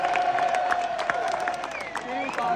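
An audience in a town square claps and cheers, with shrill whistles and scattered voices in the crowd, fairly distant and moderately loud.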